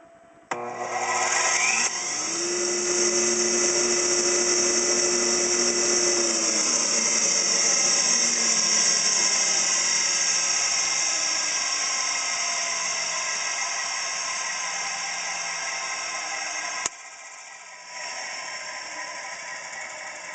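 A dust collector's material handling blower with large paddle impeller starts up, its tone rising quickly into a loud, steady whine and rush of air that holds for a long stretch before dropping and then running on.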